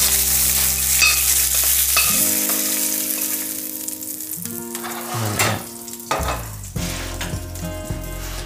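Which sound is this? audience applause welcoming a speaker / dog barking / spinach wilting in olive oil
spinach wilting in olive oil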